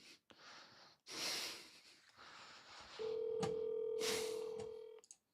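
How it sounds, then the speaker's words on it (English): A phone number dialed for calls to real estate agents: a steady tone of a few seconds follows scattered handling noise and breaths, then stops abruptly, fairly close and loud. "You guys want me to dial. Let's just start hammering the phone."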